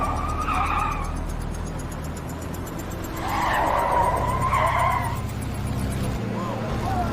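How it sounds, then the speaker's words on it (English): A car skids and spins on a motorway, heard from a coach's dash cam: a sustained tire screech rising and falling in two long bursts over steady road and engine rumble. "the driver of this car that spun on the motorway was lucky"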